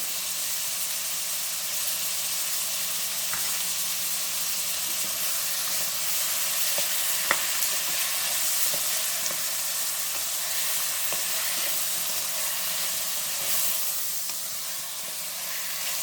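Chicken pepper fry sizzles steadily in a pan, a continuous bright hiss with occasional soft clicks and scrapes of stirring, close and even with no talking.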